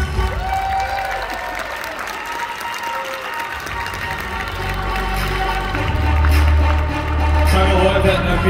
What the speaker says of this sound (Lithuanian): Kiek šį vakarą jūsų aplodismentų nusipelnė pora numeris 32?